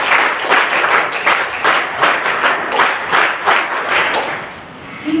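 Applause welcomes an officer at an NSS camp event at a government women's college in Bidar, with many hands clapping in a loud, uneven rhythm that has some pulsing surges and eases near the end.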